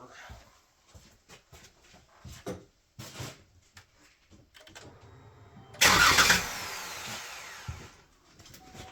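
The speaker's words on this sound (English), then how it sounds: "I just bumped the engine over to rotate the camshaft" A 3.6-litre Chrysler Pentastar engine in a 2014 vehicle is briefly bumped over by its starter, a loud, short whirring burst that rises then fades, following quieter clicks and shop noises.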